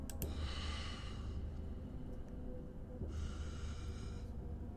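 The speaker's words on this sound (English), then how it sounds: "Stella, do you not hear the person breathing?" Heavy, raspy breathing by an unseen person in the horror game Scarlet Hollow, two long drawn breaths separated by a pause, close and hushed over a low ambient drone.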